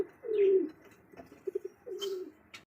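Pigeons of the Golla and Mili colour breeds cooing up close in a loft, a long throaty coo followed by short pulsing coos and another drawn-out call, with no voices.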